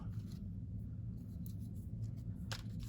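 Paper being cut with scissors for a collage, a few soft snips and rustles close by over a low steady hum, with one crisper cut near the end.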